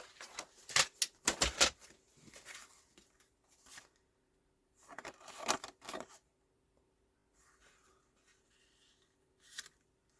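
Paper being cut for a handmade mini album makes bursts of crisp, close slicing and rustling noises, with two main clusters separated by quiet gaps and a short final snip.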